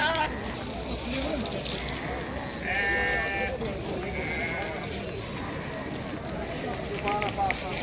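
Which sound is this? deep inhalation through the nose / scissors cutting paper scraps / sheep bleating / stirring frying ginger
sheep bleating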